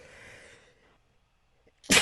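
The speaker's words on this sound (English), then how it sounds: "I got to sneeze" A single sharp, loud sneeze bursts out near the end after a stretch of fading sound and near silence.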